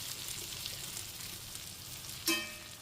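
Gram flour frying in oil gives a steady soft sizzle close by, with a brief clink near the end.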